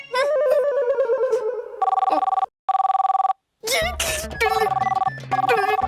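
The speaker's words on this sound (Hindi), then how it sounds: "चाचू फोन बज रहा है।" An electronic telephone ringtone plays in loud repeating bursts with short pauses between rings, while a melodic tune and voices sound around it.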